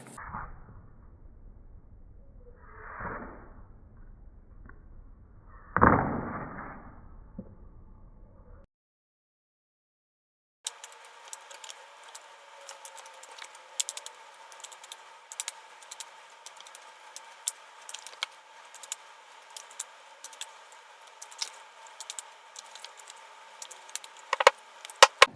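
Quick, rapid riffling of a deck of cards, repeated in short bursts with crisp flicks, close up and fairly quiet, after a few soft handling sounds.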